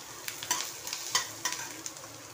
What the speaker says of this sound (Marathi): कांदा ब्राऊन कलर होईपर्यंत भाजून घ्यायचं आहे